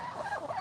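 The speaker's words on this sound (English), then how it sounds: "And then the female makes like a quacking sound." A Swedish duck hen gives a short, nasal quacking call outdoors on a farm, close and fairly loud, with other fowl-like calls blending in, no speech.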